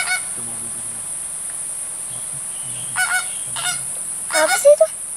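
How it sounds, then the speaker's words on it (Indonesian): Flamingos at a safari park give goose-like honking calls in a few short bursts toward the end, over a steady high-pitched drone and faint background hum. "Bebek apa? Flamingo"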